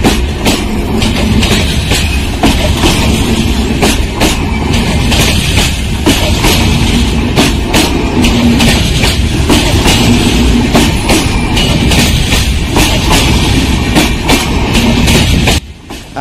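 The Cholan Express passenger train of Indian Railways rolls along the tracks, loud and close, with a steady rumble and rapid rhythmic clacking of wheels over rail joints.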